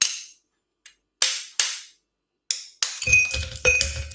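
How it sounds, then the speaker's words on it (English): Ice cracks into a cocktail mixing glass in a series of sharp, hard snaps and clinks, several separate close cracks with silent gaps, then a denser burst of crackling and rattling ice at the end. "Gotta crack some ice into my mixing glass."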